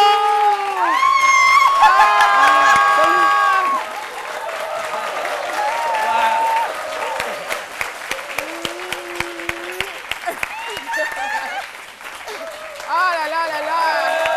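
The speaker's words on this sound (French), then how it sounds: "On va donc applaudir pour lui." Scattered audience clapping rises under a loud, animated French-speaking host talking over music on a TV talk show, with a burst of sharp claps near the middle.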